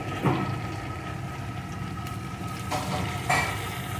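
Ivy gourd and spice masala frying in a pan as it is stirred, a low steady sizzle with a few louder scraping stirs. No voices are heard.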